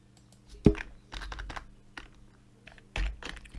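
Quick keystrokes on a computer keyboard while a name is typed into music production software, with a sharp louder tap near the start and another cluster toward the end, close and alone with no talk.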